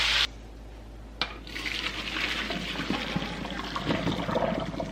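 A 15-ounce can of tomato sauce is poured into a pot of pasta and corn, a steady close thick pouring and sloshing wash after a brief clank against the rim.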